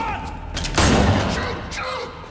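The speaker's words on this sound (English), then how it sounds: "Oh, I shot off the bastard's ear!" A gunshot in the video game Far Cry 5 cracks out as a loud broadband burst near the middle, decaying over about a second, amid game ambience with other faint shots.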